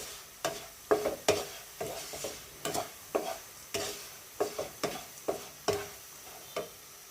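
Flattened rice (chira) is stirred in a pan for a sweet snack, producing a rhythmic series of dry scraping strokes about every half second over a faint sizzle, close and clear with no voices.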